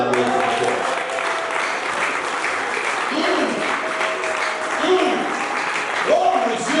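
Church congregation applauding through a pastor's sermon, a steady wash of clapping with cheering voices and shouts rising over it, loudest near the end.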